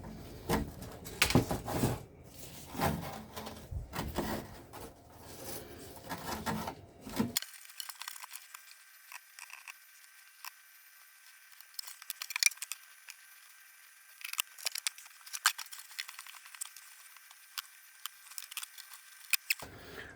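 Scissors or a blade working through carbon fibre cloth for a home-built car's front wheel arch, producing uneven rasping and snipping, busier early on, then sparser scratchy cuts over quieter, thinner background.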